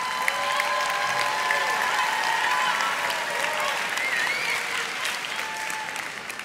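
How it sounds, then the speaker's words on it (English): A church audience applauds in a steady, sustained round of clapping, moderately loud and continuous, with faint voices and whoops mixed in. "you can applaud her"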